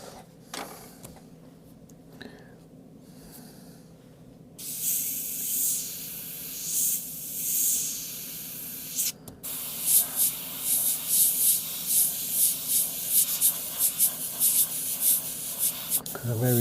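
An airbrush sprays paint for a wrinkled ace of spades design, giving a soft hiss after a quiet start, first in short swelling bursts, then in a faster run of pulses, close and moderately loud.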